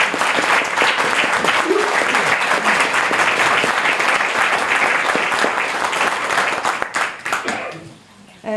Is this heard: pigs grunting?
no